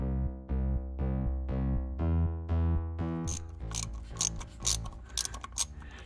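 A ratchet wrench clicks on a nut on a BMW E46 exhaust header stud, first in six even, spaced pulls, then in faster, irregular bursts of ratcheting, loud and close up.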